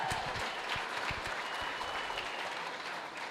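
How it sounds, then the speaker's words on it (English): A crowd at a political kickoff rally in a Pickens County town hall applauds the Lieutenant Governor, with a steady roar of clapping and a few sharper claps standing out near the front. "Y'all give her another round of applause."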